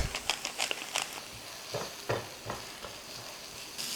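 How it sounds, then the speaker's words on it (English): Garlic, curry leaves, pepper and salt stir-fry in a pan, with a continuous sizzle broken by sharp, irregular clacks and scrapes of a spatula, close by and without talk. "All that together we will put and stir fry that"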